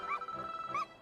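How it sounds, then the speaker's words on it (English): A dog in the Dragon Quest XI video game gives two short high yips or whimpering barks, close and fairly clear over a soft steady game background. "It looks like Gemma and Sandy to me. Sandy, woof woof, it is Sandy"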